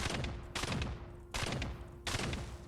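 Shotgun blasts in the video game Caves of Qud: three loud, close bursts of gunfire, each with a sharp crack and a rough trailing roar, evenly spaced with a steady tone running underneath.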